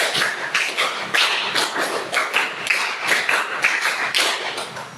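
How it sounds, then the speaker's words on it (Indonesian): A class of pupils claps a rhythm pattern together, a burst of sharp hand claps repeated in steady groups, loud and close with no voices. "3 kali, tepuk 5."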